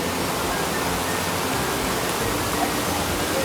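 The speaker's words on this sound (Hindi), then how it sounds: "ये हम ये ऊपर आबशार की तरफ जा रहे हैं, वाटरफॉल जिसको कहते हैं।" Mountain waterfall beyond Naran on a rough trail, heard as a constant, dense roar of rushing water filling the whole clip.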